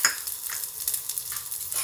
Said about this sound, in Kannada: ಇದೊಂದು ಸ್ವಲ್ಪ ಫ್ರೈ ಮಾಡೋಣ.